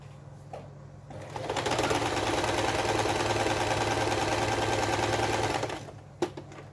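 A home sewing machine stitches binding onto a quilt in one steady, close, rapid run of about four seconds, with a few soft handling clicks before and after.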